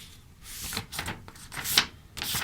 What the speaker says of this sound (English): I'm going to fold my paper in half